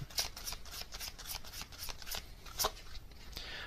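Tarot message cards being shuffled, a steady run of quick papery riffles and slaps, close and fairly crisp, with no voices.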